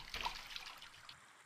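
Light water trickling and splashing in brief bursts in the video game Gorilla Tag, faint and close, with no voices.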